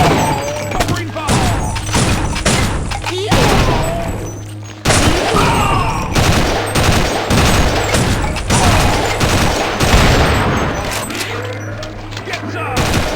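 Gunfire in the Sven Co-op video game rattles loudly and almost continuously in dense, overlapping bursts with thuds and booms, while voices shout through the firefight.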